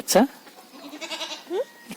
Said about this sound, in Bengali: বাচ্চা ছাগলের কি বাচ্চা এগুলা?